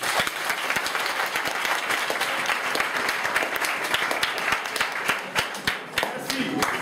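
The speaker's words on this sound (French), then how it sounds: "Applaudissez-les!" An audience applauds loudly and steadily, a dense wash of many hands clapping close by with scattered voices mixed into the crowd noise.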